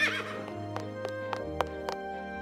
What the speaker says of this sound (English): ordered the horses to take her to the castle where the party is happening